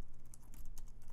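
Quick keystrokes of someone typing C code on a computer keyboard, a brief run of close, crisp clicks with no talking.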